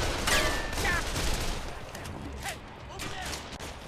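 Bursts of gunfire in the video game Call of Juarez: The Cartel, rapid overlapping shots in a busy firefight mixed with game effects, steady and fairly loud throughout.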